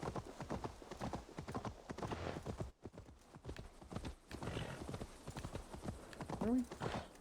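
Rhythmic clip-clop of video game horse hooves at a steady trot, with a horse whinnying briefly near the end.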